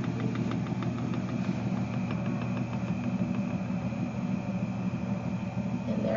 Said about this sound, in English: we want to immediately turn our switch to on so that our chocolate flows through our fountain